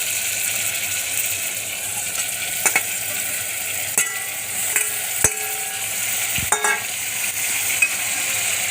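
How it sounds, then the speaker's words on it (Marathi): Whole spices and bay leaf tempering in hot oil for a spicy goat head curry, giving a steady close sizzle and crackle with a few sharp pops and clinks of a spoon against the pan, no talking. "ह्याच्यामध्ये फोडणीमध्ये खडा मसाला पाहिजे असेल तर आपण टाकू शकतो"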